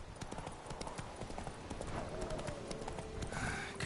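The horse Roach in The Witcher 3 clip-clops along at a steady trot, hoofbeats clear and rhythmic under a low game soundscape, with faint voice fragments mixed in.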